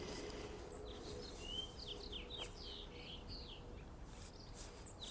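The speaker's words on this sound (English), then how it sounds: "Listen to those birds." Small birds chirp and sing in a springtime community garden, with several short high tweets and trills scattered across a faint background hum, distant and quiet with no one speaking.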